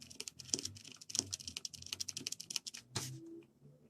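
Sticky keys pressed on a dirty computer keyboard, a close, irregular run of clacking taps with some keys sounding dull and tacky, no talk.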